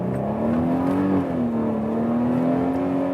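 A compact SUV engine pulls hard under full throttle, a steady, loud drone whose pitch rises and then holds through the whole stretch, with no talking over it.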